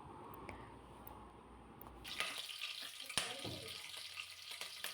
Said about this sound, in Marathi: तेल तापलं की लगेचच यामध्ये सगळ्यात अगोदर हिरवी मिरची घालायची